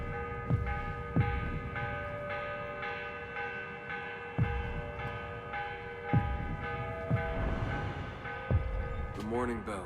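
A deep church bell tolls the morning call in Assassin's Creed Revelations, its struck notes sounding roughly every one to two seconds and ringing out in long, sustained harmonic layers over a low ambient hum.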